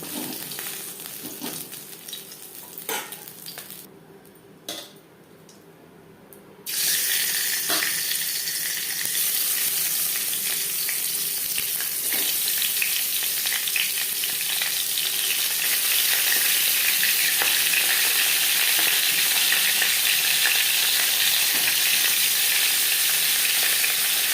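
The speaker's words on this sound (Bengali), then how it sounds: "তিনবারে আমি ভেজে নিয়েছি কাটা" Bhetki fish bones frying in oil in a kadai, an uneven sizzle at first that drops briefly, then surges into a loud, steady crackling hiss that holds to the end, with no talking.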